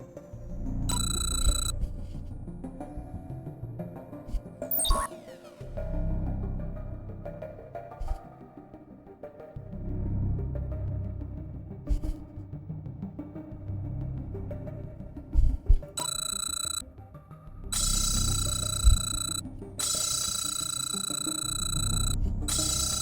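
A phone rings in the video game Crime O'Clock, sounding in several short bright bursts of electronic ringing, two near the start and a run of longer bursts toward the end, over a low rumbling game soundscape.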